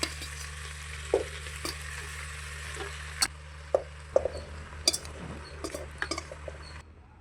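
Marinated goat head meat frying in oil in a pressure cooker, a steady low sizzle running throughout with occasional clinks and stirring scrapes of a utensil against the pot.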